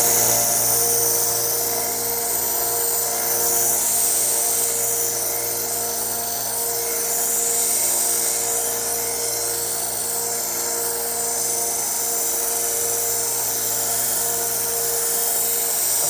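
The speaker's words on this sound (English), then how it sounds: "If you don't, then I sharpen, and we'll get started with these other ones to get this France-made knife done." A French-made knife being sharpened on a powered sharpener, a continuous high whirring grind with a steady motor hum, loud and close for the whole stretch, no talking.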